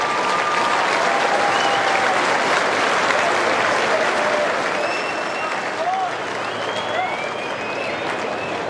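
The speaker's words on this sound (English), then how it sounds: "give him a round of applause" A crowd at the 2012 WAFL grand final, Claremont against East Fremantle, applauds the losing East Fremantle captain with steady, dense clapping that lasts throughout, with scattered whistles and cheers mixed in.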